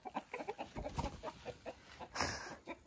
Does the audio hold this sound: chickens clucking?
yes